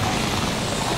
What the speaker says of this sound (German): Feindliches Flugzeug!